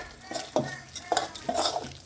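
A spoon stirs egg sambar masala in a pan with salt and homemade chili powder, making a rhythmic series of close scraping and clinking strokes against the pan.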